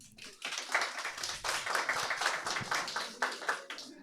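Audience at an English-language stand-up comedy show claps together, a steady, dense wash of applause sustained throughout, moderately distant and even, with no talk over it.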